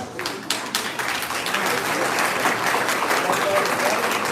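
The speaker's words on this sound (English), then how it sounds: "the clapping is not as much as we had hoped for those students" An audience at a live drum camp practices applauding for a student soloist, with dense, steady clapping that swells and holds at full strength throughout.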